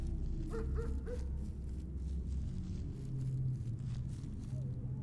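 A dog barks in a horror video game, several short sharp barks and yips early on, then more scattered barks heard at a moderate distance over a low continuous ambient rumble.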